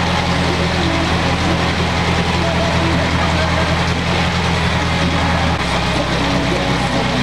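A Toyota Celica engine with a misfire, logged as code P0354, idles close by with a loud, steady low rumble. Its tone shifts slightly near the end.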